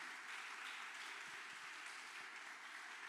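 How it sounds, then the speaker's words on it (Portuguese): A church congregation applauds in a steady, unbroken wash of clapping that sounds distant and faint, with no voices over it. "pode aplaudir ao Senhor"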